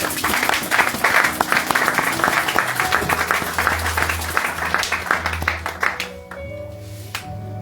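A church congregation applauds to acclaim the Lord, a dense, loud clapping crowd sustained for several seconds before tapering off, with a low hum and a few faint tones lingering at the end.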